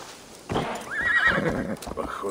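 A horse whinnies loudly with a rising, quavering neigh, and hooves clop beneath it, in the Viking-era video game Assassin's Creed Valhalla; no one speaks.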